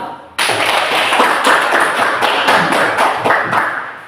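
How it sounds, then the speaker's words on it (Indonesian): A classroom group claps for a presenting team, a sudden burst of dense, close applause that begins abruptly and holds steady for several seconds with sharp individual claps. "mari kita beri aplaus untuk kelompok 2"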